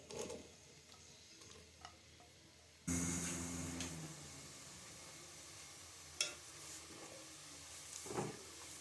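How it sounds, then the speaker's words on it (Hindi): Large sliced onions frying with whole spices for chicken biryani, a quiet hiss that turns into a louder, broad sizzle after a few seconds, with a couple of sharp clicks from stirring. "साथ ही हम इसमें डाल देंगे प्याज 3 से 4 अदद बड़े साइज़ के स्लाइस में काट के और इन्हें गोल्डन कर लेंगे।"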